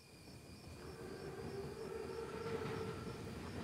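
An armored train in a World War II shooter game rumbles steadily along the tracks, a low continuous rolling roar with faint tonal whine, rather quiet and with no talk.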